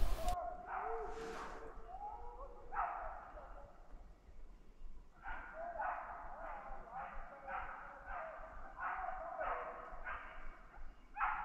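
A hunting dog barks repeatedly in quick bursts while flushing a group of 15 to 20 wild boar during a hunt in Meurthe-et-Moselle, eastern France, with an early yelp and then a steady run of moderately distant barks over outdoor background noise.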